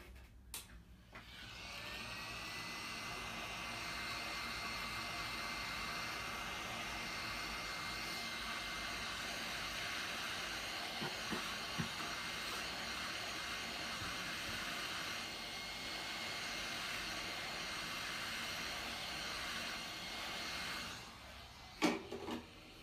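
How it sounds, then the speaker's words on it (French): A steady electric heat gun or hair dryer heating a Samsung J3 Pro phone to remove its screen whirs and hisses for a long stretch at constant pitch, switching on at the start and off near the end. "soit avec un sèche-cheveux ou un décapeur thermique"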